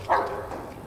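A dog gives a single short bark near the start, followed by faint low noise with no one talking.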